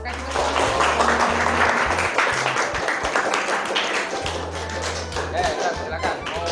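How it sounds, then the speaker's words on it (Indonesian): Applause from a classroom audience: scattered clapping, with a teacher's voice talking over it throughout. "Kita tepuk tangan dulu. Kasih tepuk tangan."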